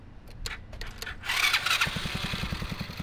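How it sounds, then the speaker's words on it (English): A 110cc pit bike engine on a go kart is cranked with a faulty CDI box. Clicks and cranking noise lead into a rapid low chugging pulse, close and fairly loud, without speech. "Go ahead and try to crank it up, Charles."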